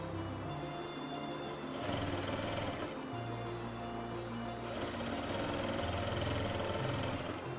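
A sewing machine runs steadily while stitching a palazzo trouser seam, its continuous motor hum rising and falling in short bursts as the fabric is fed through, with no talking.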